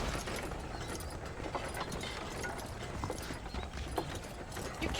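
Horse hooves clip-clop steadily while riding in the Red Dead Redemption video game on PC, a continuous rhythmic clatter blended into dense in-game ambience.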